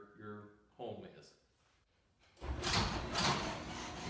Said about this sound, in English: Right now you're listening to the MyQ 8355. It's running. It's very quiet.